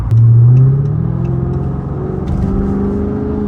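A Dodge Charger SRT8 revs and pulls away on the road, its engine note rising loud and close before settling into a steady rumble as it cruises.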